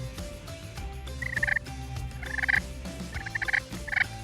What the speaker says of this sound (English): We got the purr.